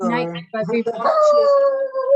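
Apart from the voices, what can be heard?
dog howling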